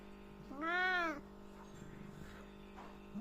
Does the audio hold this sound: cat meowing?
yes